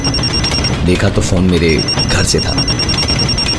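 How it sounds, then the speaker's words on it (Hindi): A phone rings with a repeating electronic tone while someone talks over it, the ring continuing faintly behind his voice. "थोड़ी देर में मेरा फोन बजा।"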